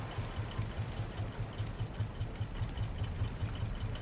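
Engine on a raft in the survival video game Raft, running steadily with an even, rhythmic low chugging pulse under a wash of water noise, moderate in level and without talking.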